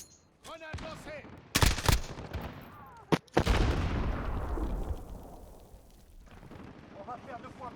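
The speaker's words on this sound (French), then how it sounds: "Grenade lancée." Call of Duty multiplayer: a quick burst of gunfire, then a booming grenade explosion with a long rumbling decay, followed by more sporadic shots and game voices speaking.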